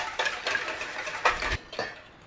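A spoon stirs English mustard into a bowl of ingredients for a leftover quiche, giving a few soft, close scraping and clinking strokes in short bursts with no talking.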